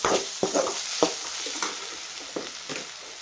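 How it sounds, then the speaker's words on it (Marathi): Spices and chili powder being sautéed in a pan for a quick tempered rice dish made from leftover rice, with several sharp stirring scrapes and clinks over a soft, steady sizzle, close to the microphone. "आणि छान असं परतून घेऊया."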